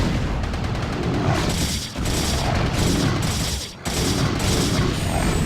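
StarCraft: Brood War ground units attacking anti-air missile turrets: a steady, loud barrage of rapid gunfire and crackling impacts, with two brief dips in the din.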